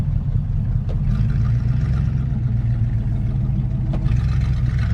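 A 1955 Ford car engine runs loud and steady from inside the cabin on a long hot highway drive, a continuous low rumble with no talk over it.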